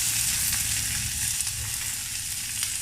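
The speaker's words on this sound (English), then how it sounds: "Now I'm going to add fine chopped onions" Finely chopped onions fry in hot oil in a pan for South Indian cooking, giving a steady, close, loud sizzle with light crackles throughout.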